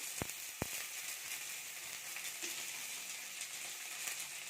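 Onions and green chili sizzle steadily in a pan while being sautéed for vada curry, a dense, even frying hiss with a couple of sharp utensil clicks near the start.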